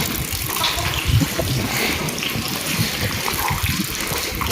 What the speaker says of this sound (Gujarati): જો આમ વરસાદ ચાલુ છે, એમ તો નેવા પડે એવો વરસાદ ચાલુ